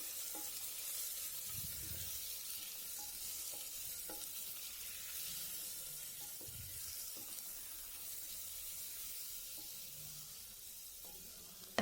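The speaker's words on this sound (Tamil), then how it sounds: "தக்காளி பழம் சேர்த்ததுக்கப்புறம் நல்லா வதக்கி விட்டுருங்க." Chopped tomatoes sautéing in a pan for green gram kadayal, a constant close sizzle with intermittent soft thuds and scrapes of a stirring spoon.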